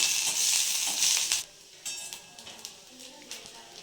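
Coconut powder, garlic, ginger and tamarind sautéing in a pan: a close, steady sizzle that fades after a second or so, followed by a few soft scrapes and stirring taps as the frying continues more quietly.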